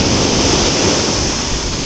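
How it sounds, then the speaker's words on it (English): Ocean waves break on the beach at Daytona as a loud, continuous roar of surf, dense and unbroken, with some wind buffeting the microphone. "I'm just going to get some waves right now."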